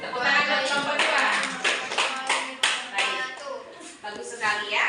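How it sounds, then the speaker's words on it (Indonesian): Children applaud for a group in a classroom, a steady run of close hand claps that lasts the whole stretch and mixes with children's voices. "Tepuk tangan buat kelompok 2."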